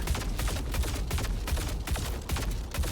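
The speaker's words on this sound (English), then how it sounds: "So when you fire this gun, it's like this." Fresnel Molten Energy LMG in Star Citizen firing a loud, continuous automatic burst, rapid overlapping shots hammering out for the full stretch with no pauses.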